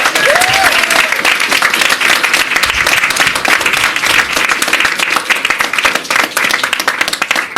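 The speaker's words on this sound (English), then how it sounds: "Let's give them all a round of applause" A large room of educators and guests at a citywide student voter registration event breaks into loud, steady applause that fills the whole stretch as a dense, unbroken wash of clapping.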